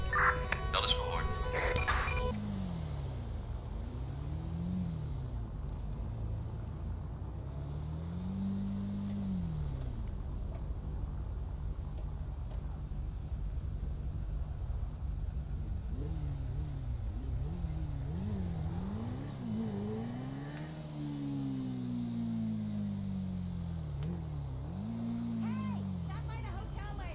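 Police motorcycle ridden in GTA 5, engine revving up and down in repeated swells as it accelerates and shifts, with a brief burst of game radio chatter at the start.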